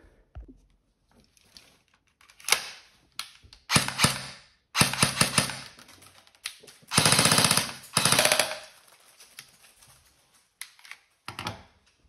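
Tokyo Marui HK USP .40 S&W electric airsoft pistol firing on full auto, rapid clattering bursts of varying length separated by quiet gaps, close and crisp.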